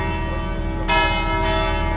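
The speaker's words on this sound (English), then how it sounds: "I'm not sure why the bell's ringing at 8:30." A church bell at St Mark's Basilica in Venice rings loud and resonant, with one fresh strike about midway over a sustained humming tone, and no talking.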